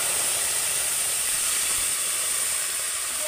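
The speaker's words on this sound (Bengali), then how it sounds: "আর টমেটোটাও এখন আমি দিয়ে দেব" Chopped tomato goes into a hot pan for a vegetarian green-banana gravy, giving a loud, steady sizzling hiss that runs unbroken for the whole moment, with no voices over it.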